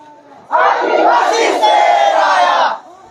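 A large crowd of young people marching at a rally lets out a loud, sustained collective shout lasting about two seconds, rising sharply and then dropping away.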